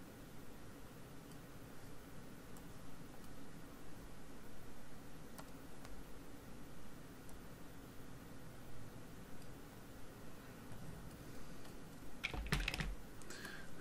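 A computer keyboard clicks softly and fairly far from the microphone under a faint steady hiss, with sparse key taps throughout and a short burst of sharper presses near the end.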